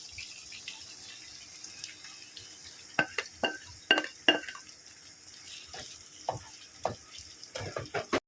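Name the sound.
beef and okra frying in a pan with tomato paste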